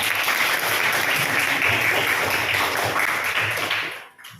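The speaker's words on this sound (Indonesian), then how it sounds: "Tepuk tangan buat semuanya." A group in a classroom guidance session claps together, steady dense applause from many hands for about four seconds before it quickly dies away.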